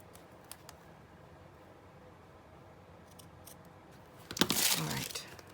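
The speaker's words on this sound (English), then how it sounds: "and then again right here, I'm gonna cut this." Scissors snip through a Dollar Tree notebook in one loud, crisp cutting burst near the end, after a stretch of quiet room sound with faint small clicks.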